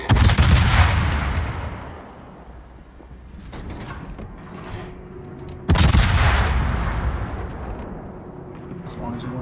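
Heavy naval guns firing in World of Warships aboard the cruiser Des Moines during a battleship engagement: two loud booming broadside blasts about six seconds apart, each rumbling and decaying into lower battle noise, with game voice callouts in between.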